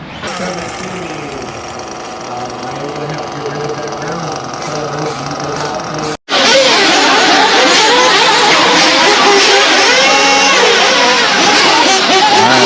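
Nitro RC buggy engine racing at the 2025 Pumpkin Cup, a loud buzzing whine that rises and falls with throttle, cutting out briefly midway and then returning louder, while voices talk over it.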